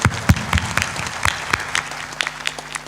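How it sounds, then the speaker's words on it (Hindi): A crowd at a Hindi devotional discourse claps in scattered, uneven bursts, with sharp, moderately loud hand claps over a faint sustained background tone. "वाह, ताली बजा दो।"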